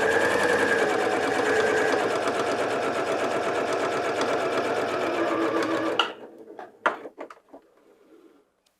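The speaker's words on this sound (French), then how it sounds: "réaliser une surpiqûre afin d'emprisonner toute notre marge dans notre surpiqûre" Sewing machine topstitching a French seam, a close, fast, steady mechanical whirring with dense needle rhythm that runs continuously, then stops, followed by a few short clicks and handling knocks.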